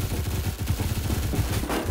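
Rapid automatic gunfire from the Phantom Forces shooter game, a dense continuous stream of loud shots with a steady rhythm throughout.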